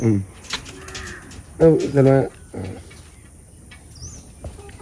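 Pigeons coo in a loft, soft burbling calls near and intermittent, while someone talks over them in short bursts.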